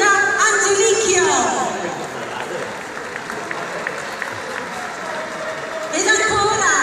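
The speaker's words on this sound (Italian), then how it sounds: "Salutiamo tutti con un forte applauso." Crowd applause at the Salernitana 2015-16 football club presentation: steady clapping and chatter from a large audience, louder at the start and end, with an announcer's amplified voice over it.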